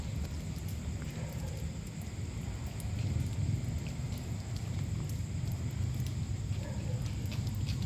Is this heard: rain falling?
yes